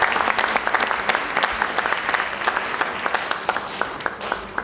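A steady patter of applause from an audience at a Democratic Party lawmakers' workshop honoring party leadership, moderately distant and continuous for several seconds with no talk over it.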